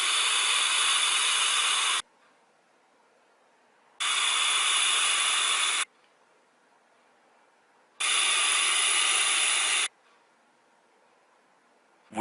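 An iJoy Avenger vape atomizer with a wick-type coil fires at 60 watts in three separate two-second bursts, each a loud, close, steady hissing crackle. Near-silent pauses fall between the bursts.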